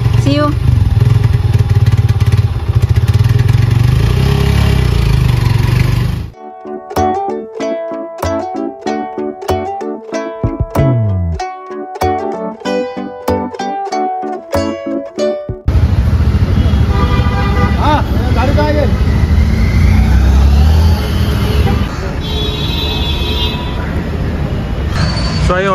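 A motorbike ridden and then brought to a stop for parking gives a steady, loud broadband engine and road rumble, broken midway by a stretch of bright, rhythmic tonal melody before the rumble returns.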